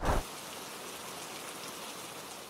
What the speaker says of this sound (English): until the rain actually came